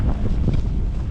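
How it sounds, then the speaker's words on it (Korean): Strong wind buffets the microphone on a snowbound mountain road near Stepantsminda (Kazbegi), Georgia, a steady close low rumble with no talking. "바람."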